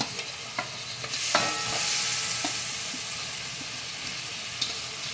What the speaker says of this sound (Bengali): আলু কচুগুলো দিয়ে ভালো করে এবারে আমি কষিয়ে নেব